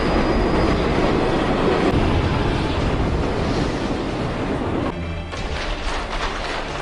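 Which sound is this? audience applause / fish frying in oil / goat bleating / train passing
train passing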